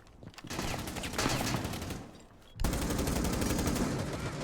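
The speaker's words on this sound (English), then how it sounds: "Gunshots" Rapid gunfire bursts from a tactical shooter video game, loud and dense, continuing almost without pause with a sharp surge partway through and no talk over it.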